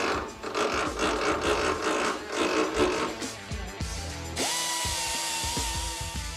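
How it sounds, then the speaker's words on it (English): A power tool cuts through a weld on a WWII gun, grinding harshly and steadily for a few seconds, then settling into a higher, smoother spinning whine with scattered clanks close by. "I need to make sure I cut the weld, not the barrel."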